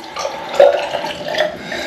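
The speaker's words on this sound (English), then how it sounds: "Just putting a bit more water onto it." Tap water runs and splashes onto a soapy dog during a grooming bath, a soft, steady hiss with small surges.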